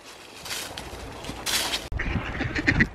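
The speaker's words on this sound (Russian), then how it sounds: "С Темкой кормим уточек хлебушком." Ducks being fed bread outdoors by a pond, several close, loud quacks in short bursts toward the end over background rustle and wind.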